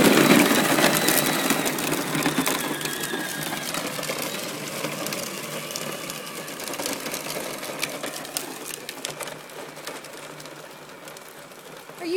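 A child's ride-on toy tractor motor runs with a steady, whirring mechanical drone, close and fairly loud throughout, with faint ticking clatter over it and no talk.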